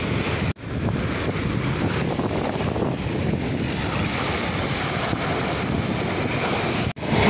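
Big ocean waves and strong wind on a beach in Varna, a constant loud roar of surf and gusting air buffeting the microphone, with no voices.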